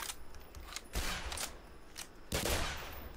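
Enemy gunfire in the game Black Mesa, heard as several sharp, loud shot bursts at irregular moments, with a steady rushing game ambience between them and no talk.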